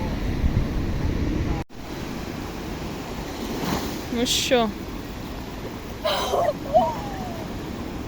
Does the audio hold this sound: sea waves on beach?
yes